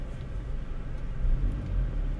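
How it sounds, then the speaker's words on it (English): Low engine rumble from a 2003 Toyota Camry held on the brake in gear while given a little gas, a steady close drone swelling slightly mid-clip, no talk. "start your car up, put it in reverse, hold the brake, and just give it a little gas."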